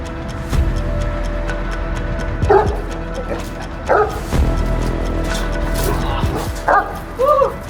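A shepherd dog barks in several short, sharp bursts spaced a second or so apart, close by, over a low background hum and some distant traffic.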